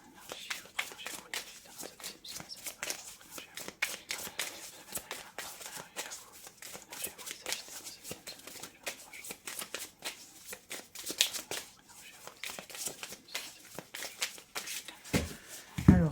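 A deck of tarot cards is shuffled and handled right up close, with repeated crisp riffling bursts and soft card slaps, while a voice occasionally murmurs softly underneath.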